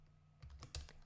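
Keys tapped on a computer keyboard while entering an account name, a few quiet clicks with short pauses between them, close by and fairly soft with no talk.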